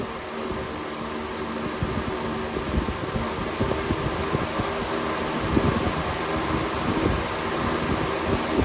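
A Dayton box fan runs on medium, blowing straight into the microphone, giving a steady, close, loud rushing drone with gusty buffeting throughout and no voices.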